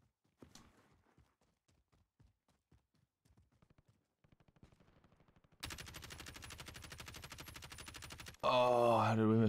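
Gunfire in Call of Duty Warzone: scattered single shots and footsteps at first, then a sustained rapid automatic burst, ending in a loud, dense volley of close fire.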